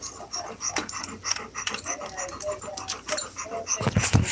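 Dog whining in thin, high, wavering cries mixed with panting breaths and small movement sounds, close by, ending in a louder low scuffle.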